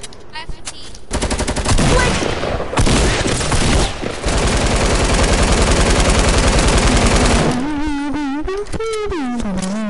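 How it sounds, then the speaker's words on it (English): A light machine gun fires in a video game, a loud continuous rattling burst lasting several seconds and then giving way to game sounds and a talking voice. "Hit you with the LMG in there."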